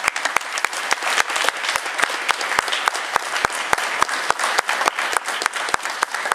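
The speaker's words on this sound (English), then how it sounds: "Let's give everyone a round of applause." A roomful of delegates at a Georgia district Republican convention applauds newly elected committee members, a full steady roar of clapping punctuated by a few sharp, close individual claps keeping a fairly regular beat.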